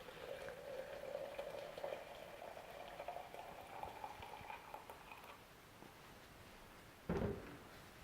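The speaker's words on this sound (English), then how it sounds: "That's why I use boiling water. Pour the boiled water." Boiling water pours steadily into a container for several seconds while brewing honey lager, its gurgling pitch rising as it fills, followed by a quieter pause and a short clunk.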